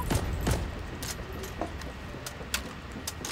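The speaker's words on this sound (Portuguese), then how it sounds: "Os tanques lá de longe. Isso não é metralhadora de soldado." Tank cannons fire far off on a Heroes and Generals battlefield: faint, scattered pops and thuds sound at irregular intervals over a constant low ambient rumble, with no voices.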